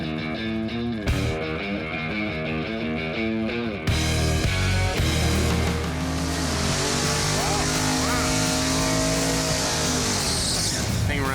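A pink Mustang drag car's engine rumbles loudly nearby, with a throaty, rough idle that shifts as it is revved, while people talk over it.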